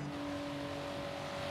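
A Nissan Skyline R34 engine in Forza Horizon 3 hums steadily in a low, continuous drone, fairly faint and even throughout, with no talk.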